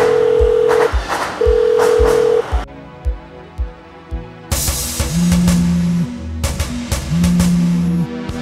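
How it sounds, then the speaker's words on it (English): A loud electronic ringtone plays in repeating beeping bursts with punchy beats and sustained tones, pausing briefly before starting again. "is that seriously your ringtone?"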